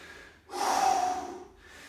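A single heavy, forceful breath, drawn in and pushed out sharply, comes from someone close by during a gym deadlift set and lasts about a second between quiet pauses.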